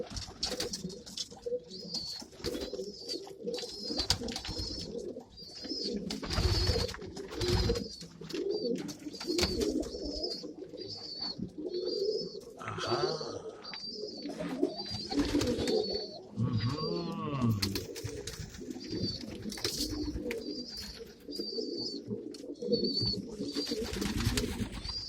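Pigeons coo steadily throughout a loft coop, a dense, overlapping chorus of low throaty calls with occasional wing flutters and faint shuffling close by.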